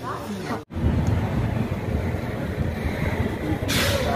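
The Balurghat–Sealdah Express leaving Malda station, heard from inside a general coach: a steady loud rumble of wheels and carriage noise, with a brief dropout early and a hiss of air near the end.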